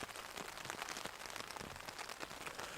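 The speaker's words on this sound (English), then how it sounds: "There's something nice about listening to it rain," Continuous soft rain pattering on fabric overhead, an even hiss with scattered individual drops.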